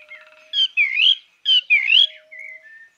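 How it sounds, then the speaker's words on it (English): A small pet bird in the video game The Book of Unwritten Tales chirps and whistles in a few bright, clear bursts with short pauses, close and alone. "That's only Cheep Cheep, my little, very annoying bird."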